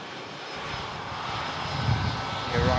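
An arriving airliner rolls off the runway at Manchester Airport during blustery Storm Lilian, its engines a steady, loud, broadband roar mixed with gusting wind throughout.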